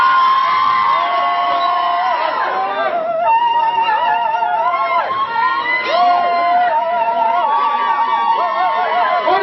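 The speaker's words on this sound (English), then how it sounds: "After 3, scream out loud for me." A crowd at a UK hip hop show screams loudly and continuously for several seconds, high shrill voices rising and falling together, close and dense.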